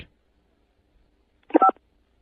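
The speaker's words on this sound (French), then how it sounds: "Appuyez sur la touche 5." A single short telephone keypad tone from pressing key 5 on a phone, one clean dual-pitch beep sounding alone against silence.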